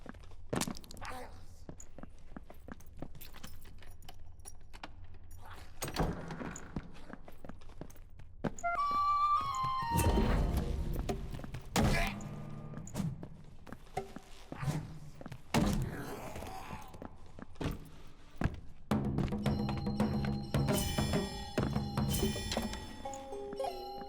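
Door thumps in the dungeon game Dark and Darker, heavy close knocks and thuds scattered through a busy mix of footsteps, clatter and combat noise, growing denser toward the end.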